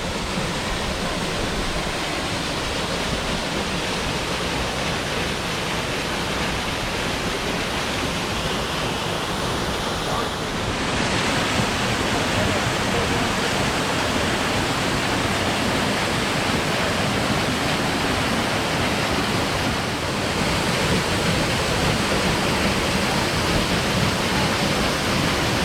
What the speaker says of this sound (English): This will lead you to the waterfall.